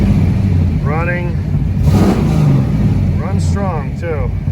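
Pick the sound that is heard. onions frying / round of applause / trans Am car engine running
trans Am car engine running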